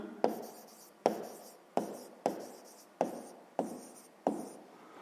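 A pen writes on paper in short strokes during a sixth-grade maths exercise, about seven close, distinct scratches in an even rhythm with quiet pauses between them.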